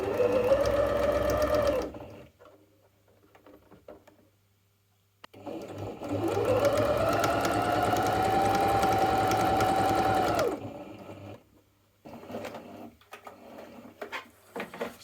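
A sewing machine runs a zigzag stitch through stretchy T-shirt fabric in two loud, steady bursts of whirring motor hum separated by a quiet pause, followed by faint handling sounds.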